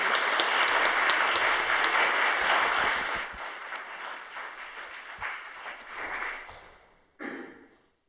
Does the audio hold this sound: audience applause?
yes